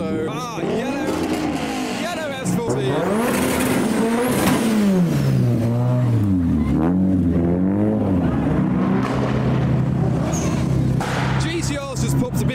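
A Nissan GTR engine revving hard inside a building at a car meet, with rising and falling rev sweeps and a popping exhaust echoing off the walls, loud and close amid crowd noise.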